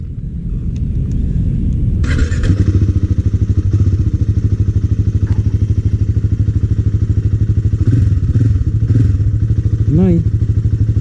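A motorcycle engine runs steadily throughout a ride to Nageshwar Temple, a loud, close, continuous throbbing rumble with a brief rev change near the start; a voice is heard briefly toward the end.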